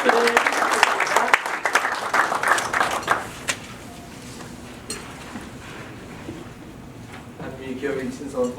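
Applause from an audience at a Korean-American business leaders' breakfast forum, loud for about three seconds then quickly fading into room noise and a low murmur.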